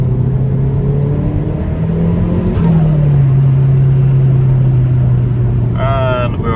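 A turbocharged Mazda car accelerates hard in a short pull, its engine heard from inside as a loud drone that climbs in pitch, drops briefly at a gear change, then climbs again, with a faint whine near the end.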